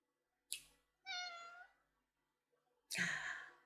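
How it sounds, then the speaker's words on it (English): A house cat meows three times in separate bursts with short gaps between them, close and clear, and the last call is the longest and most drawn out. "this is my cat, Static."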